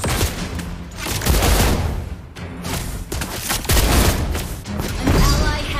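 Sniper gunfire from Lesley in the mobile game Mobile Legends, loud repeated shots and booming impacts in bursts over busy battle effects, with in-game voice lines layered on top.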